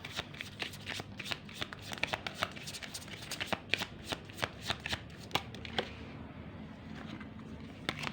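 A deck of tarot cards is shuffled close up, a rapid series of crisp riffling snaps and slaps that lasts several seconds, then settles into softer handling.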